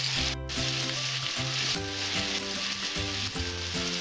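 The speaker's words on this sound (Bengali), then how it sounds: "পটলগুলো লাল লাল করে ভেজে নেব।" Pointed gourd (potol) frying in hot oil gives a soft, continuous sizzle beneath louder melodic background music, with no speech.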